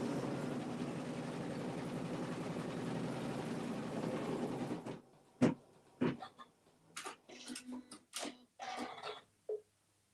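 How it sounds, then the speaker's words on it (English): An embroidery machine stitches a placement circle on fabric, giving a dense, rapid mechanical whir for about five seconds before stopping, followed by scattered short clicks and clatters of handling nearby. "after it stitches down the fabric, it's now going to stitch another circle, which will be the placement stitch for my smiley face"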